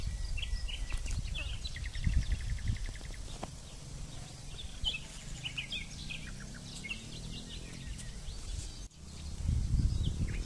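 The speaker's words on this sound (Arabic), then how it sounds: "اصوات العصافير في هذه الجهه." Small birds chirp and tweet in open countryside on a sunny day, scattered high calls and short trills at a moderate distance over a low rumbling background, with no voices.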